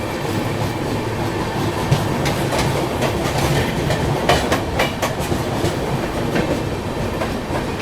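The Azimabad Express crosses past on the adjacent track, a sustained loud rumble of rolling wheels and rapid rail clatter mixing with the steady running noise of the train heard from on board.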